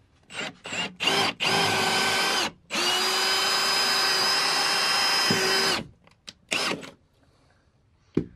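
A power drill bores a pilot hole in the wall of a camper van, with loud, close motor whines in several bursts, including a long sustained run, separated by short pauses and a few brief trigger blips at the end.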